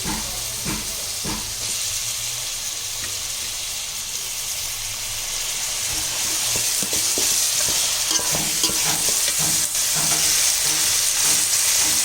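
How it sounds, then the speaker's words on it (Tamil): Three large tomatoes sauté in a pan for kuska plain biryani, a steady close sizzle and hiss with repeated scraping stirs that grow busier and louder toward the end, no voices. "இதில் 3 பெரிய சைஸ் தக்காளி போட்டுக்கலாம்"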